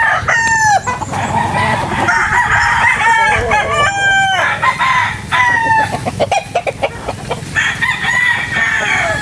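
Chickens cluck busily while a rooster crows repeatedly at a backyard chicken farm, loud and close, with a constant murmur of farmyard background.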